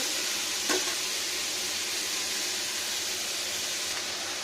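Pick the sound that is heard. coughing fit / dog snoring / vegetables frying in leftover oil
vegetables frying in leftover oil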